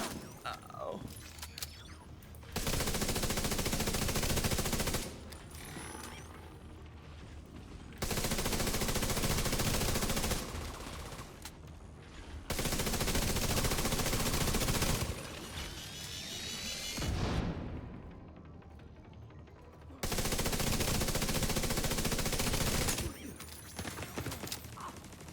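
Video game gunfire comes in long automatic bursts, several sustained volleys of rapid shots separated by short quieter gaps.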